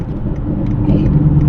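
Straight-piped V8 Genesis sedan, its exhaust rumbling low and close with a continuous throaty burble and no voices.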